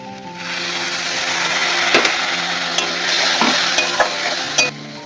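Water hitting hot oil and ground chilli and cumin in a pan for chicken malai curry bursts into a loud, steady sizzle, with occasional scrapes and knocks of a spoon before it cuts off abruptly.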